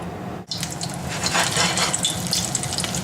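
An egg frying in a hot pan with oil, a steady hissing sizzle that starts after a brief drop and continues evenly, close up and alone.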